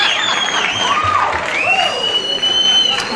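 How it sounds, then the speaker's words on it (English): Audience applause and whistling follow a Bach Brandenburg Concerto played by the Vienna String Quartet, with steady crowd noise and sharp, sliding whistles over the ovation. "The applaud and the whistling is for the Brandenburg Concerto by Bach."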